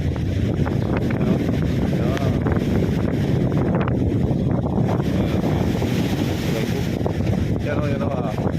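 Strong wind buffets the microphone while sea waves slam a small wooden bangka boat during a typhoon, a constant loud roar with splashes, and voices talk over it.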